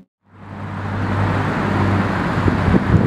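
A straight-piped, 1,000-horsepower first-generation Audi R8 engine starts up and builds into a loud, steady, rising roar that stays close and dominant throughout, with no voices.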